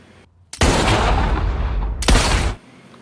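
Gunfire erupts in a film scene as two men storm a building and shoot the henchmen inside. Two loud, booming bursts ring out close together and trail off in a reverberant rumble.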